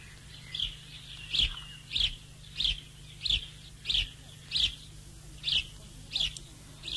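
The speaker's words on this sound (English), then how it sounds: "House sparrow, various calls." A house sparrow gives a string of short, sharp chirps about every two-thirds of a second, evenly spaced and fairly clear over a low steady hum.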